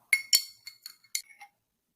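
A spoon stirring salt and water inside a glass container, producing a quick series of bright clinks and taps against the glass, about six strikes in a little over a second, close and clear with no talk.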